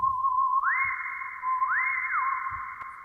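A Lowrey touch-screen organ's whistle solo voice sustains a steady, pure pitch, slides up to a higher note, holds long, then glides back and repeats the rise once more, loud and alone with a faint bump of background noise.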